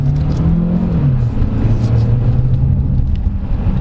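A 2024 Jetour Dashing compact crossover with a dual-clutch gearbox in manual mode pulls away from a standstill. The loud engine drone rises in pitch, drops at a quick upshift, and then climbs steadily again.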